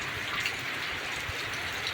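Heavy rain pours down in a dense, steady hiss at a farm field, loud and unbroken for the whole moment with no voices.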